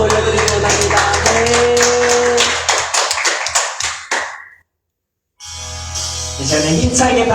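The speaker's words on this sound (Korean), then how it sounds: "이제는 힘차게 박수 치면서 나아가기 원합니다." Church congregation clapping rhythmically in steady beats during Friday worship, loud and close, with music and singing underneath, stopping briefly before clapping and music resume.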